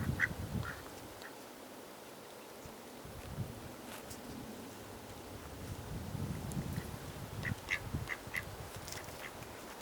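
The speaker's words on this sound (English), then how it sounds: "Well, the ducks aren't gonna come talk to us today." Ducks quacking in a state park, scattered short calls near and far over a steady outdoor background with light wind noise.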